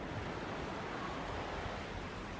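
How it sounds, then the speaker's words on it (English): A very full river rushes through Zurich, a steady, dense broadband roar of flowing water with no breaks, moderately loud and close, with no voices. "The river's really full."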